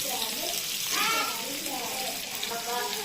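Onions sizzle steadily in a hot pan as they are stirred, the base for a Kerala-style mackerel mappas curry. The frying hiss runs throughout at a moderate level.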